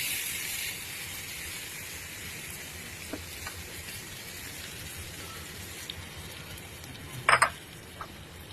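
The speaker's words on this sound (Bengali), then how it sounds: "সেদ্ধ করা আলুটাকে এর ভিতর দিয়ে দিলাম। দিয়ে একটু নেড়ে ঢেকে রেখে দেবো।" Boiled potatoes fry in a pan with a soft, steady hiss and sizzle, fairly quiet and constant, broken near the end by a sharp clatter of stirring against the pan.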